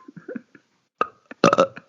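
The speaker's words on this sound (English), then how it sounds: "Oh, I burped." A single loud, close burp erupts after a few quieter throaty sounds and stands out clearly in otherwise near silence.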